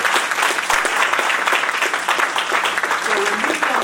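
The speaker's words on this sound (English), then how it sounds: "he needs to get a round of applause for sure" A Veterans Day audience in a room gives a round of applause to a Vietnam veteran, with dense, steady clapping close by that holds for a few seconds.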